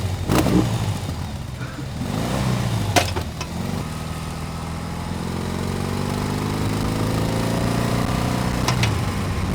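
BMW R18 Bobber 100th Anniversary Edition big boxer engine droning and revving on a ride, a steady loud engine note with rising pitch and wind rush throughout.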